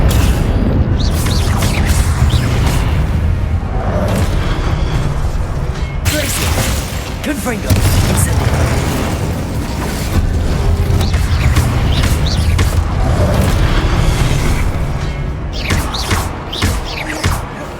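Spell blasts and fiery explosions in Hogwarts Legacy, with repeated booms, thuds and pops layered over constant combat noise, while a voice speaks through much of it.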